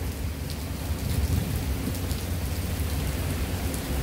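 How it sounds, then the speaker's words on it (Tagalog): Heavy rain pours down in a steady, dense roar, with a low rumble underneath and no voices, at Salisbury Garden, Tsim Sha Tsui. "Grabe, ang lakas ng ulan nito."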